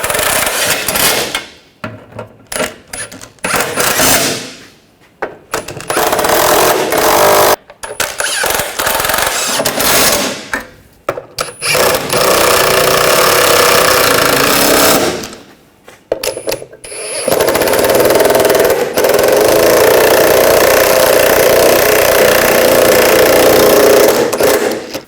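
Metal clicks and ratcheting bursts from tightening an exhaust clamp on a catalytic converter of a 2013-2019 Ford Escape, loud and close, coming in uneven runs with short pauses between spells of work.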